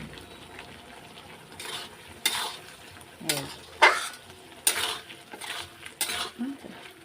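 Spiced curry is stir-fried in a pan, with repeated scraping and clinking of a metal spoon against the pan over a soft sizzle, in loud irregular strokes.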